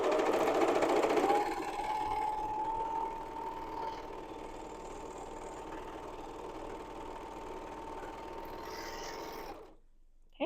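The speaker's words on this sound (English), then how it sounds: "Okay, so we have our seam finished with the serger" A serger runs fast and steady while finishing a fabric seam, a buzzing mechanical whir that starts loud, settles into a constant hum for several seconds, then stops abruptly.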